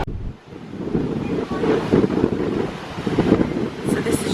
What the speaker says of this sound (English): So this is just the waves and the water